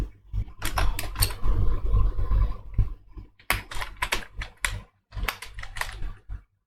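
Java code is typed on a computer keyboard in close, crisp rapid clatters. Bursts of keystrokes are broken by short pauses.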